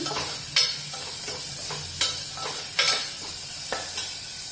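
Finely chopped onion sautés in a pan, a soft continuous sizzle with several sharp spatula scrapes and taps against the metal at irregular intervals, with no talking.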